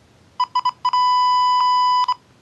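Electronic beeps from biofeedback training software on a handheld PC: a few short pips, then a long sustained tone, then two more quick pips, clear and close.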